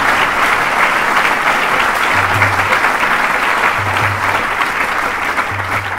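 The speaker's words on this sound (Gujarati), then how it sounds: "તાળીઓના ગડગડાટથી આ ભાગ્યશાળીને આપણે વધાવી લઈએ." A large crowd at a Vihar Sammelan gathering claps loudly and continuously to welcome an honoree, a thick sustained roar of hands close by with a faint low hum underneath.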